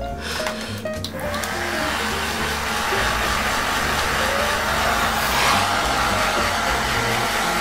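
A handheld hair dryer blows hair dry after hard wax has been worked in, giving a steady, loud, close whoosh that runs without a break after a few brief clatters at the start.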